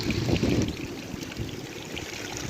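Water spills out of a siphon pipe by itself outdoors, a steady rushing trickle with a fuller gush in the first half-second, then continuing evenly at moderate loudness with no talking.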